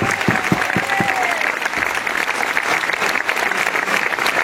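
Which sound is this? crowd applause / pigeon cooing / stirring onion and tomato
crowd applause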